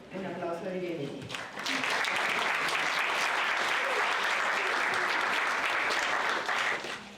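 Audience applause welcomes a visiting university professor at a geography lecture. A brief announcer's voice comes first, then a sustained, even burst of clapping that stays strong before tapering off at the close.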